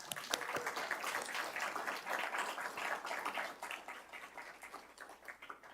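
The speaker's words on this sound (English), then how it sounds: "Please join me in giving them a well-deserved round of applause" Audience applause at a city State of the City evening event in Brisbane, a steady dense round of clapping lasting several seconds, moderately distant and even in level, fading slightly toward the end.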